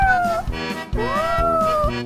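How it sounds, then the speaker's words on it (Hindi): A cartoon kitten gives two drawn-out, high meows in quick succession, close and loud, over a steady low rhythmic backing track, with no talking. "वो छोटी बिल्ली अभी अभी बोली।"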